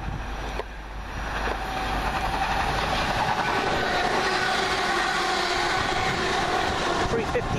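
Passenger train running through East Didsbury station on a Manchester Airport line, a loud close rumble of wheels and rail clatter that builds after a quieter start and holds steady; a faint voice sits underneath.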